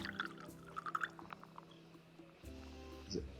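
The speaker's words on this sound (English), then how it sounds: "I think they pour it down the middle first." Coffee poured into a large cup in the video game Assemble with Care, heard as a brief, soft liquid pour with a few faint drips, quiet and close.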